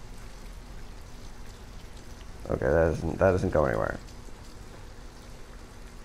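Steady rain pattering in the video game Detroit: Become Human, a soft continuous wash under a brief stretch of someone talking in the middle.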